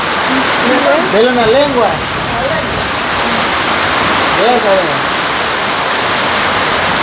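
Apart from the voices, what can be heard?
rain water pouring in everywhere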